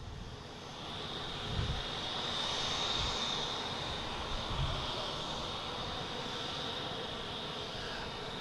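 Continuous broad engine roar of a Cape Air plane coming in from Nantucket to land on runway 4 right at Boston Logan airport, heard from a distance with a steady, slightly swelling drone.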